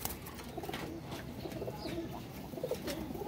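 Red-eyed pigeons kept as paired birds in a fancier's loft coo softly and repeatedly, with low, rolling calls over faint background noise and no speech.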